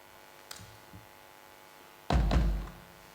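An acoustic drum sample plays from an electronic drum kit: a couple of light taps, then one deep, booming drum hit that rings briefly and fades.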